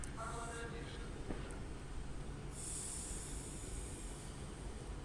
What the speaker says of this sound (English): So this is the Avanti West Coast service from Glasgow Central to London Euston with 15153.